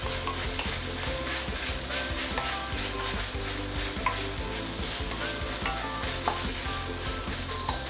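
Minced pork sizzles loudly in a hot pan with Shaoxing wine, a dense continuous crackle mixed with steady stirring scrapes, no talking.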